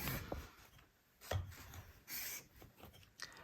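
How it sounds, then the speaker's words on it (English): Short rasping strokes of a spokeshave blade being sharpened on a flat plate, several separate scrapes with brief pauses between them, close and fairly quiet with no talking. "Now I'm going to do 5 strokes on this and see if I have a burr."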